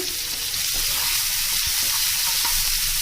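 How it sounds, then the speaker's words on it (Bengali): Onions sizzling and frying in hot oil in a pan, a steady close crackle throughout, with no talking. "তেল গরম হয়ে গেছে, এবার আমি পেঁয়াজ, প্রথমে পেঁয়াজগুলো দিয়ে দিচ্ছি"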